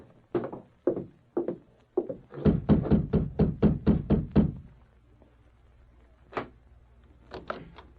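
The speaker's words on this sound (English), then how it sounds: "then advanced and rapped on the door" Knuckles rap on a wooden door in an old radio drama sound effect: a few spaced knocks, then a quick run of about seven loud, close raps, and a couple of fainter knocks after a pause.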